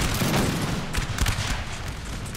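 Musket volleys in Napoleonic Total War III, during a Russian campaign battle, make a dense continuous crackle of massed gunfire. It sounds loud and close, with booming low rumble underneath throughout.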